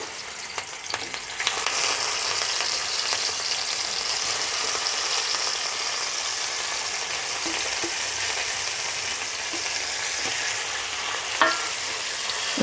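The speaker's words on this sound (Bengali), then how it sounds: "মাছগুলোকে এপিট উপিট করে ভালোভাবে লাল লাল করে ভেজে নেব" Koi fish frying in hot oil, a loud, dense, continuous hiss and crackle close up, steady for the whole stretch with a few sharper pops and a faint clunk near the end.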